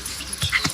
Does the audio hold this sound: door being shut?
no